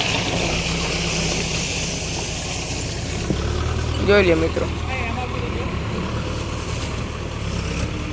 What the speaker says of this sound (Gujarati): ટ્રેક્ટર આવે છે